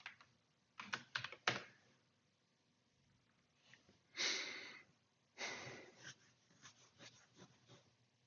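Keys clatter on a computer keyboard during a coding session, in short bursts of typing with quiet gaps between them. Some soft breathing shows between the bursts.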